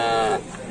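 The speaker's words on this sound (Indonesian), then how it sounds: "ada sapi lagi." A cow lets out a single loud, close moo lasting about a third of a second and then fading into quieter low rumble, recorded on Sapudi Island where bull racing is held.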